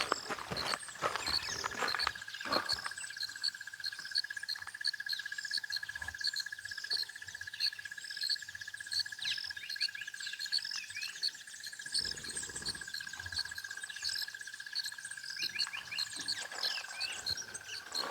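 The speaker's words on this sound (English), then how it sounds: "Loads of bird sound." Birds sing and chirp continuously at a picnic site in Kruger National Park in the early morning, many overlapping calls near and far over a steady insect drone, no talking.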